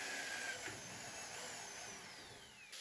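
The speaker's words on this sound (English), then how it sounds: "Drill a hole for the screw that will hold the lock." A power drill bores a hole for the screw that holds a lock on a workshop cart, giving a continuous, fairly quiet whine with a pitch that drifts downward as it cuts.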